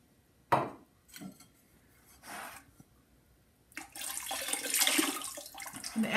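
Pottery glaze, a tan liquid, poured onto ceramic pieces: a few soft splashy taps first, then a sustained loud splashing pour over the last few seconds.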